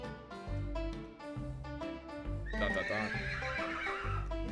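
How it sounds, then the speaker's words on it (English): A horse in a Western-themed video game whinnies and neighs loudly after a run of clip-clopping hooves, the call rising high over the steady hoofbeats and backing score, with no talking. "horse suddenly reared and whinnied"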